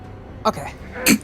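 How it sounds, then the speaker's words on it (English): A brief throat clear during a tabletop role-playing game session, a short burst followed by a louder second one near the mic, with a word spoken between. "That was a throat clear."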